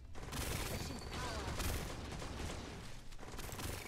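Shotgun fire in the T3 Arena game comes as a rapid barrage of loud, close blasts running almost without a break, with brief pauses near the start and end.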